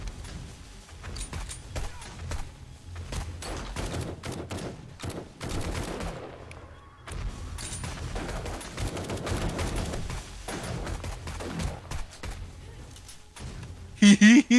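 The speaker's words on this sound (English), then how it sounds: "I've never seen so many explosions at once." Rapid, dense bursts of gunfire and explosions in 7 Days to Die during a horde night pile up almost continuously, loud and chaotic, with players talking over the din.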